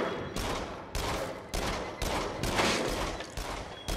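Rapid, dense gunfire rings out in bursts in the VR shooter game Until Dawn: Rush of Blood, loud and continuous with short gaps between volleys.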